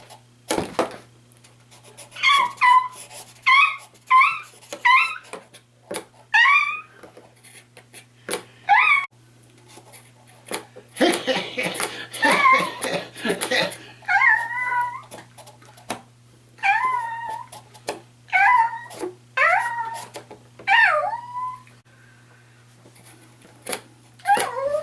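A young puppy gives a run of high, rising whimpers and short howls, about a dozen close, loud bursts with gaps between them over a low steady hum.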